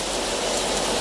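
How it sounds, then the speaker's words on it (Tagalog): A short burst of heavy, constant rainfall, a thick hissing wash of water close by. "Super lakas ng ulan."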